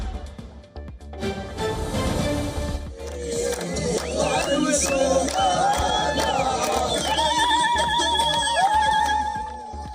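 Palestinians cheering in the streets of Khan Younis near Nasser Hospital, a loud dense crowd roar with shouts and rising ululating cries, sustained throughout and close.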